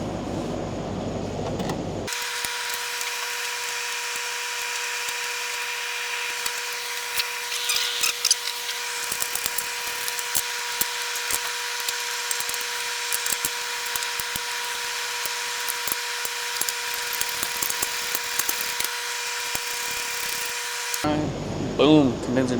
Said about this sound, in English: Just gonna bolt this back up.